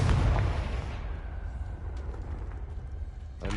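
A Confringo blasting spell explosion in the video game Hogwarts Legacy, a heavy booming burst at the start that decays into a low rumbling tail, with a faint crackle returning at the end.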